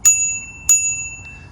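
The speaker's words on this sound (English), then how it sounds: "It's a bell." Two sharp rings of a stock bicycle bell on a Magicycle Cruiser Pro e-bike, struck about half a second apart, each bright ding fading into a long metallic ringing tail, close and clear.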